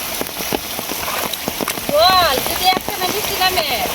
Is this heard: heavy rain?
yes